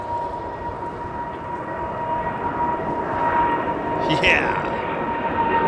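Turkish Airlines Boeing 777 doing a touch and go at London Heathrow, a steady jet engine roar with a high whine that swells toward the end as it passes, with a brief spoken word from a nearby voice.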